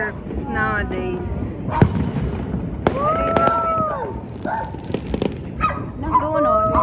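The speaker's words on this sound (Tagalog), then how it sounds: "There's so little fireworks nowadays." Scattered New Year's fireworks bang and crackle at a distance in Brazil while people talk and cheer, with a dog barking in between.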